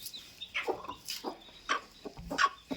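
A sitting hen, a brooding mother that hatched chicks, gives a series of short clucks and squawks at close range in a quiet coop, with no talking.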